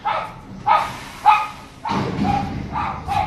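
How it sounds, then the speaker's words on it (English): A dog barks excitedly in repeated bursts, yipping and bow-wowing at a garbage truck, whose low rumble rises underneath the later barks. The barking is close, loud and uneven. "My dog's going bananas with the garbage truck."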